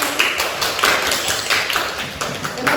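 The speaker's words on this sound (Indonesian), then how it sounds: "Ya, tepuk tangan dulu untuk kelompok" A classroom gives a discussion group a round of applause in an Indonesian lesson, a steady crowd of many hands clapping at close range, dense and even throughout with no talking.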